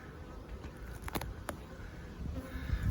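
Honey bees swarm around an open single brood chamber hive during a July inspection, a steady, close buzzing hum with a few louder passes of individual bees, no talking.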